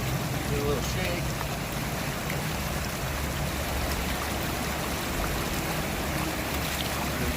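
A carpet being rinsed outdoors, rolled back and forth and slapped against water, gives a steady close splashing and trickling wash with soft irregular slaps, and a person talks over it.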